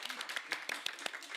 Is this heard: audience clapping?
yes